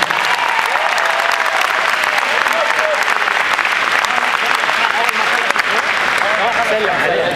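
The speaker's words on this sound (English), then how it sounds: "Big round of applause for both boxers." Crowd applause after a boxing bout at a Penn State boxing match, a steady, loud roar of clapping mixed with cheers and whistles filling the whole stretch without letup.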